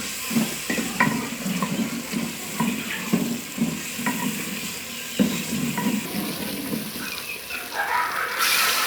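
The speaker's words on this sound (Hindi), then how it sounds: "इसमें हम थोड़ा सा पानी डालेंगे।" Eggplant sizzling and stirring in a cooking pan with red chili, then near the end water is poured in with a rushing splash that shifts the sizzle.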